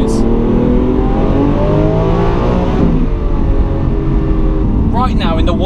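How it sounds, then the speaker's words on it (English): Lamborghini Aventador SV V12 engine revving on downshifts, a loud, steady rasping drone with shifting pitch that rises and falls, heard from inside the car as voices talk faintly near the end. "The downshifts are beautiful."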